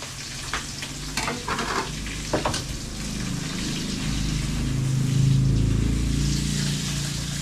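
Lapu-lapu (grouper) fish sizzles loudly in hot oil with crackling spatter and a low rumble underneath; a few clinks early on, no talking.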